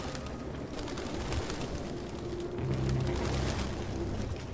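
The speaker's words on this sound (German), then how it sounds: "Ah, überall die Tauben," Pigeons coo softly in the video game Detroit Become Human, low repeated calls set within a steady ambient wash of city background noise.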